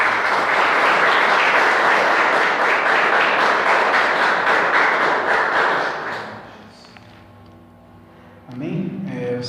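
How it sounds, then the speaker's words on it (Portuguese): A church congregation applauds for about six seconds, a dense and loud burst of clapping that fades out, followed by quieter murmuring and brief movement sounds. "e as palmas do Senhor Jesus Cristo"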